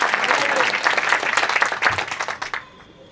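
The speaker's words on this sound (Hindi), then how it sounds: "हाथ उठा के ताली बजाएंगे सब पूरे फल से, पूरी शक्ति से, पूरी सामर्थ्य से" Church congregation in Uttarakhand applauding with raised hands during a preaching service, a dense, loud burst of many hands clapping that swells, holds for over two seconds, then cuts off abruptly.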